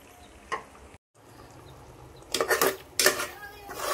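Spices and chutney being added to roasted masala in a pressure cooker pot, with a few sharp metallic clinks and scrapes of a spoon against the pot, a brief sizzle, and quiet room noise between.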